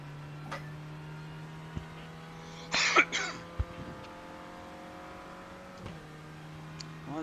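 A single short cough breaks the quiet of a faint, steady background hum, followed by a few soft scattered clicks.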